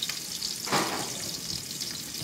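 Tinapa, smoked fish, frying in a pan, giving a steady close sizzle with a brief louder burst of crackling as it is stirred, no voices.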